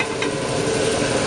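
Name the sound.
garlic cloves sizzling in a pan with mushrooms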